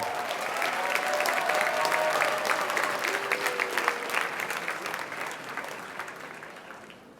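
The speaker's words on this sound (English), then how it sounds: "Can we have another big round of applause for all our graduates, please?" Audience applause for graduates at a high school commencement ceremony: sustained, dense clapping from a large hall, steady and full before gradually fading at the end.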